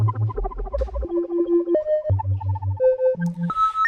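A modular synthesizer FM patch plays a stepping sequence of electronic tones that jump between pitches, with a fast, steady pulsing wobble on every note.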